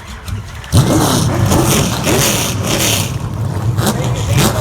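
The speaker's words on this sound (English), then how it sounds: "Gentlemen, start your engine." Pro stock race car engines roar and rev up loudly together at the start of a race at Scotia Speedworld, rising and falling pitches layered over a rumbling crowd, with a faint voice mixed in.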